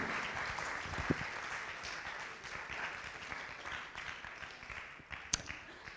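Applause from an audience at a music launch event welcoming a production house, a steady crowd clapping throughout with a couple of sharper claps standing out.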